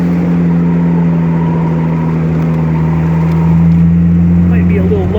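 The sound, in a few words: 1953 Jaguar XK 120 driving on bias ply tires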